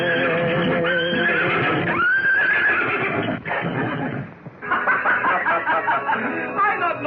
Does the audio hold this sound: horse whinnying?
yes